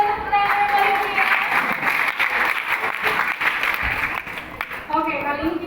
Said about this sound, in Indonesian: Penampilannya sekali lagi boleh tepuk tangan yang paling meriah.